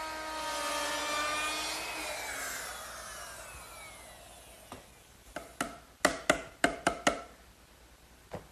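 A woodworking router fitted with a 1/4-inch round-over bit cuts a decorative edge on a wooden drawer front, a loud whining roar that winds down, followed by several sharp knocks and clacks.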